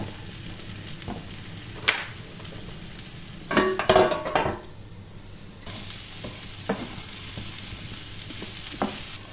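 Celery added to a hot pan with salt, ginger and spices, frying with a soft continuous sizzle, marked by a louder burst of hissing and stirring partway through and a few light utensil clicks.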